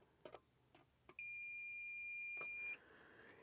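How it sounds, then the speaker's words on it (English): A Brymen BM789 multimeter gives a single steady continuity beep of about one and a half seconds, high and clear, preceded by a few light clicks and handling knocks. "I get the shorting continuity circuit sound."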